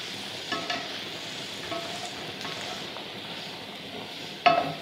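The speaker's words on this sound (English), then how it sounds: "Stir my peppers and onions while I'm at it." Peppers and onions stirred in a pan over medium-high heat give a steady, soft sizzle, with a few brief scraping stirs standing out, the last one loudest near the end.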